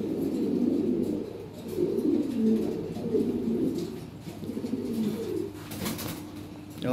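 Lahori Siraji pigeons coo steadily in low, rolling phrases, several birds overlapping close by, with a brief flutter or rustle near the end.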